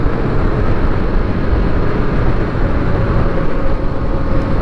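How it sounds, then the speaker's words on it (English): Engine of a 2021 Kawasaki KLX300 motorcycle while riding at speed, a loud continuous low drone blended with rushing wind noise, steady throughout with no talk. "The engine doesn't sound that good going at this speed."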